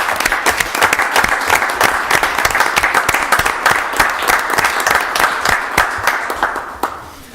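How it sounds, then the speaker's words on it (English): A round of applause from those attending a city council meeting: dense, steady clapping that holds loud and even for several seconds before tapering off at the end, with no talk over it. "would this be an appropriate time to have a round of applause"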